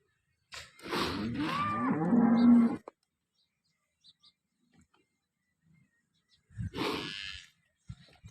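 A cow gives one long, loud moo up close, followed by silence and then a shorter second moo.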